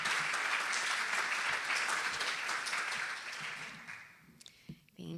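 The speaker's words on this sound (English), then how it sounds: "can we get another round of applause for Reverend Diane," A congregation at a Sunday service claps for Reverend Diane, loud dense applause that thins and fades out over the last second or so.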